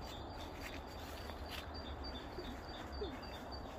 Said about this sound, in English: Woodland and the birds are singing.